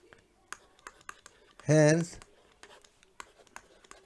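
Pen or pencil scratches on paper during a maths lesson: short, quiet ticking strokes spaced through the quiet, with one brief spoken syllable in the middle.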